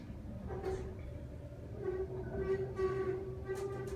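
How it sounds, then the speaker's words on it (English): Low, rumbling hum and faint squealing from a hydraulic scenic plaza elevator at an apartment building in Koreatown, Los Angeles, descending with rough, grinding sounds, heard from inside the cab at low volume. "It's making bad sounds on the way down."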